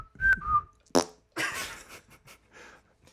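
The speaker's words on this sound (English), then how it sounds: "Can you whistle?" A person whistles a short two-note tune of clear rising and falling tones, up close and alone, followed by a burst of breathy noise and quieter mouth sounds.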